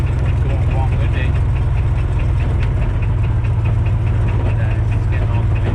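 A 1947 Ford Coupe on its first real test drive, with a steady low engine drone and faint knocking running continuously while a person talks over it.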